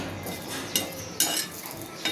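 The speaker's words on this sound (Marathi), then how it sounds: "त्याचबरोबर मिरच्या आणि लसूण टाकला आहे तव्यावर" Chilies and garlic roasting dry on a griddle: a faint steady hiss with a few sharp clinks of a utensil scraping the pan, quiet and close.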